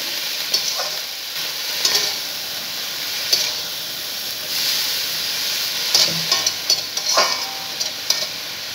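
Salted cabbage stirred in a pan over heat before the lid goes on, with a steady sizzling hiss and scattered scraping clicks from the spoon. Nobody speaks.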